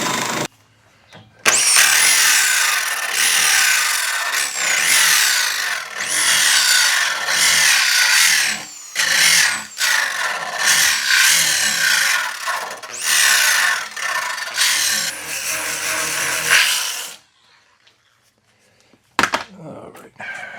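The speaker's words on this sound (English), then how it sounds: "the wire brush is gonna handle the rest of this. Where the weld is anyway." Wire brush on a power tool scrubbing weld areas on a 1972 Super Beetle, a loud harsh continuous rasp with brief pauses, running for about fifteen seconds before stopping.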